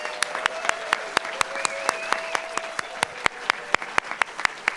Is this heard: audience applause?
yes